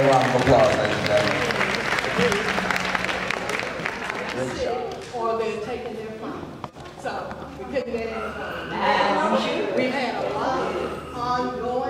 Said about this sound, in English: Let's give them another round of applause, ladies and gentlemen.